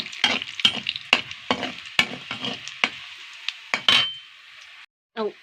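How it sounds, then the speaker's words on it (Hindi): Cumin and mustard seeds frying in hot oil, stirred with a spoon: a run of sharp, rhythmic metallic scrapes and clinks over a crackling sizzle, close up, ending briefly in a short muffled burst. "अब जीरा ऐड कर देता हूँ। उसके बाद ये देखो सरसों, फिर चम्मच चला लेते हैं।"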